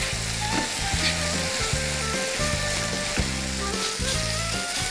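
Spoon worm fried rice with oyster sauce, ginger juice and chili powder stir-frying in a hot pan, a loud steady sizzle with repeated scraping strokes of the spatula, close and with no talking.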